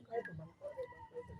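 Turkey calls from a farmyard fowl: several short, raspy, pitched bursts close by, spaced unevenly over a faint background, with a voice briefly audible nearby.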